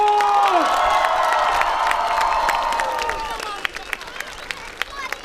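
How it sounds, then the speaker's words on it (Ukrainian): A crowd in Myronivka claps and cheers loudly, with shouts and whistles carrying over dense applause that fades to scattered claps. "Дайте самі собі галусові оплески Миронівко!"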